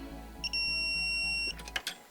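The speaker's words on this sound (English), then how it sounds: "The alarm's still going off." An electronic alarm sounds during a pull test on a fixing in an aircrete block wall. It gives a steady, piercing tone about a second long, followed by a few clicks and handling noises nearby.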